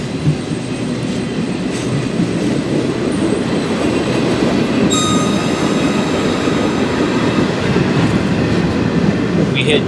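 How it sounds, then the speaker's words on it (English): An Amtrak passenger train rumbles past close by in Virginia, a steady loud roar of wheels on rails with faint clatter and a brief high squeal midway. "This is train 95 from Boston, Massachusetts, which will terminate in Norfolk in just a few minutes."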